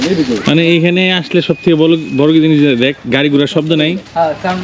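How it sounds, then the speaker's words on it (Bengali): Birds call and a pigeon-like coo sounds softly in a quiet village in Mymensingh, with no traffic around, mostly under close conversation that continues throughout. "আর এই যে পাখির সাউন্ড আছে।"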